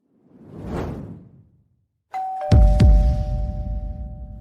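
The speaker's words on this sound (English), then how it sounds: "The doorbell rang." A doorbell rings inside a house with a two-tone ding-dong that rings on clearly, coming after a soft whoosh and a brief silence.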